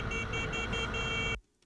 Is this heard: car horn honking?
yes